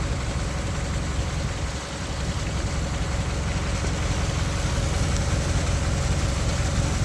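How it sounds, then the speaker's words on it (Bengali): Engine of a cargo boat chugging steadily as it travels through the Sundarbans waterways toward Gosaba, a loud continuous low rumble with no pauses throughout. "আমাদের জলতরী কিন্তু ধীরে ধীরে এগিয়ে চলেছে গোসাবার দিকে"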